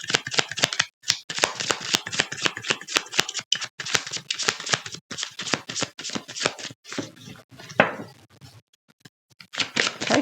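Oracle cards shuffled by hand during a tarot reading, a steady run of dry, rapid riffling flicks and slaps with brief pauses between bursts, close and fairly loud, with no talk.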